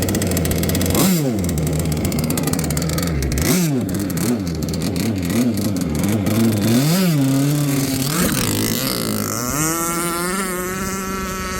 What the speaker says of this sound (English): we'll just run it without the hatch today since we got that exhaust leak with this pipe